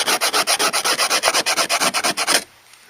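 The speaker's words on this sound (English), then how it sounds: "if you take your knife, you can scrape that off" A knife blade scrapes oxidation off a fiberglass canoe hull in about twenty fast, even back-and-forth strokes, close and loud, then stops abruptly into quiet.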